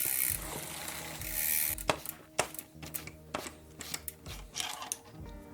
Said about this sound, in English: now that we have the crank bolt loose, we can just go ahead and loosen it up the rest of the way